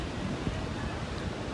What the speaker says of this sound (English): Wow, you see the big waves?